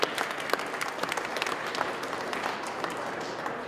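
Steady audience applause fills a ceremonial gathering at the Connecticut State Capitol in a dense, continuous patter of many hands clapping, evenly loud throughout with no voices standing out.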